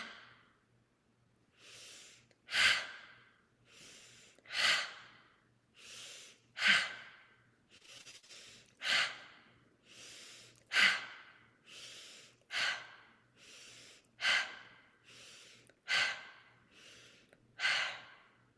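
Guided meditation breathing: slow inhales, then forceful exhales released with an open 'ha', repeating steadily about every two seconds, close and clear with no talk over them.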